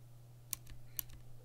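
A gold clicky keyboard switch is pressed a few times, giving two or three crisp, faint clicks close up over a steady low hum.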